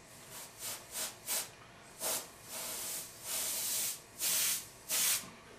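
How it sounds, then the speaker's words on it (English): An airbrush sprays paint in short bursts to frost and soften a faux marble finish, roughly nine separate hissing puffs of varying length, close and crisp with brief pauses between, no talking. "You can also come in and start frosting this out with your airbrush, just to kind of subdue it a little bit."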